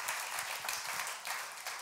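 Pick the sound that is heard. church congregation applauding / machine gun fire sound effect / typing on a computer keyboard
church congregation applauding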